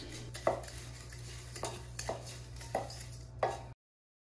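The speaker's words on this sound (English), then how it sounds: "in a medium bowl, add the cracker crumbs and the Old Bay seasoning. I like to mix with a wooden spoon" A wooden spoon mixes cracker crumbs and Old Bay seasoning in a medium bowl, making four or five soft, spaced scraping knocks over a low, steady hum.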